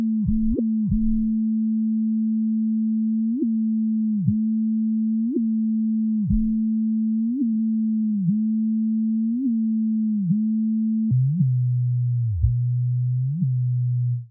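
A steady low electronic sine tone from oscillators through a Kilohearts Disperser phaser effect in Bitwig plays alone, swooping briefly downward in pitch at regular intervals before settling slightly lower near the end.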